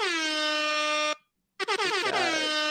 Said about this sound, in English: You can't have a successful podcast without the intro air horns.